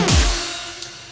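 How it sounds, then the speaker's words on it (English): A synth slide run through a Gross Beat backwards stutter effect in a complextro track, a single loud swelling sweep that drops in pitch and tails off, with a brief blip near the end. "with gross beat, notice how it's kind of a backwards effect"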